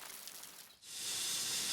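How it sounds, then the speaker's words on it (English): Steam hisses from the boiler of Thomas the Tank Engine, a coal-fired steam locomotive: a soft broadband hiss dips briefly, then swells into a stronger, steady rush that continues to the end, with no voices. "Coal has heated up Thomas's boiler. Now he can make steam."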